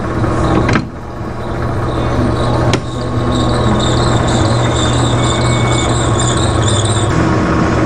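Metal lathe cutting at about 120 RPM under power feed with oil applied, a steady high-pitched squeal running throughout alongside a constant low machine hum, loud and close with brief dips in the whine.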